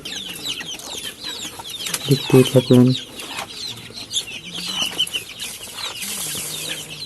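Twenty-two-day-old chicks cluck and peep in a steady chatter while being fed, with a short burst of lower clucking midway and a brief spoken phrase.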